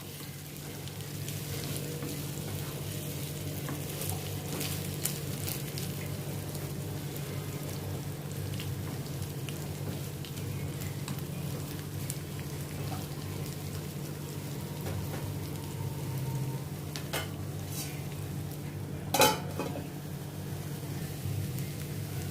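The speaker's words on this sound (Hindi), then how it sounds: "अभी इसको उलटते पलटते हुए मैं अच्छी तरह से इसको अभी मैं फ्राई करती हूँ थोड़ा" Pieces of arbi (taro root) fry steadily in an oil-filled pan, giving a soft continuous sizzle with occasional light clicks from turning, and one brief louder knock near the end, with no talking.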